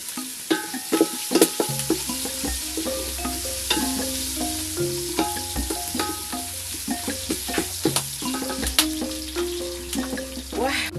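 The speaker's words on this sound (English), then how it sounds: "To the onions, I'll add a little bit of salt to facilitate the cooking of onions." Onions with a pinch of salt sizzle steadily in a pan while a utensil stirs and scrapes, clinking against the metal in irregular knocks, close up with no talk.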